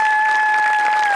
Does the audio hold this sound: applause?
yes